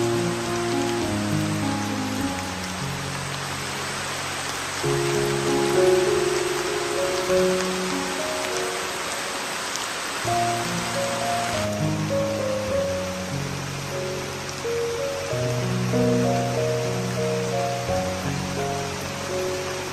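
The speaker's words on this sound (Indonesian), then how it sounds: "Lagi asik bersantai, hujan malah turun." Steady rain falls in a jungle, a dense continuous hiss of drops on surfaces filling the scene at moderate loudness, with tonal music playing over it throughout.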